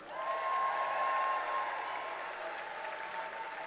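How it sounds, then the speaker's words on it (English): An awards-ceremony audience at the AIMS Awards 2014 gives a steady, warm round of applause for the festival administrator, even clapping that swells early and then tapers slightly, with a sustained tone beneath it. "Please give a warm round of applause to our festival administrator, Fiona Sheeran."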